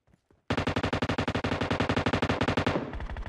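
Automatic gunfire in PUBG Mobile on the Miramar desert map: a single loud, rapid burst of evenly spaced shots lasting over two seconds, close and sharp, following a couple of faint clicks.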